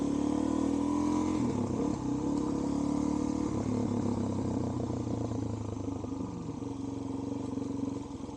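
A Suzuki DRZ400SM motorcycle fitted with a 12-tooth rear sprocket accelerates hard for a power wheelie, its single-cylinder engine revving loud and close, climbing in pitch and easing off near the end.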